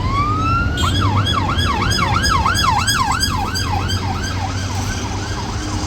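Police vehicle sirens in London wail in fast repeating up-and-down sweeps as the vehicles pass close by, loud over steady traffic rumble, with no talking.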